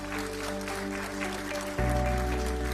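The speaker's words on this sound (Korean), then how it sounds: "큰 박수로 화답해 주시기 바랍니다" Steady applause from a crowd at a Democratic Party of Korea candidates' rally fills the clip, with a sustained musical tone underneath that shifts partway through.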